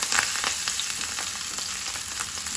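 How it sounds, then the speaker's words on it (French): Spices fry in a very hot pan, giving a loud, steady, dense sizzle with faint crackles throughout and no voices. "dans une poêle bien chaude, je vais mettre toutes mes épices que je vous ai montrées"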